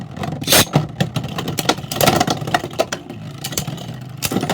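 A Spryzen Beyblade is launched in right-spin attack mode and clashes in a stadium, producing close, rapid scraping and sharp clacking impacts over a whirring spin that lasts a few seconds.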